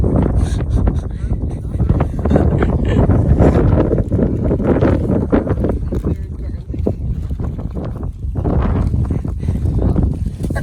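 Strong wind on Little Bald Pate, a mountain in Maine, roaring and buffeting against the microphone in steady gusts with a few brief lulls, loud and close throughout.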